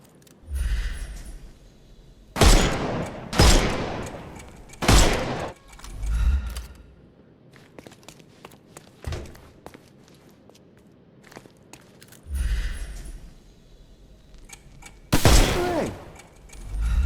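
Gunshots ring out in a Sherlock Holmes Chapter One game fight against armoured enemies, as several sharp, loud blasts in irregular bursts separated by quieter stretches with scattered clicks and thuds.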